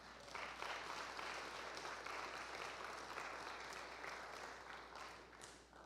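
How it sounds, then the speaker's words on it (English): A congregation claps during a sermon, a sustained wash of applause from a large room that stays level, then tapers slightly at the end. "You can clap for that."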